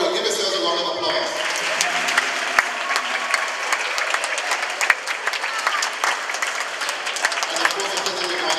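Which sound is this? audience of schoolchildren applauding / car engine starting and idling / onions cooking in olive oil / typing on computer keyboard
audience of schoolchildren applauding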